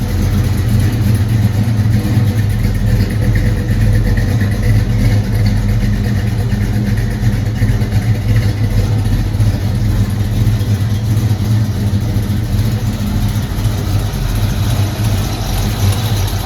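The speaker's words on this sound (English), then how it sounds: "Now all you hear is the exhaust leaks popping." A 1968 Ford Mustang engine idles steadily and loudly, with a rough, uneven exhaust that sputters and pops throughout from exhaust leaks.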